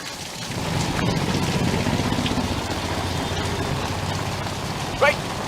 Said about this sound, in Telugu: ఉరుముల మెరుపులతో భారీ వర్షం పడుతుంది